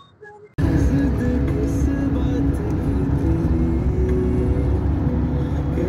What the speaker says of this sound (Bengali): আর গাড়ি শাঁসা করে ছুটছে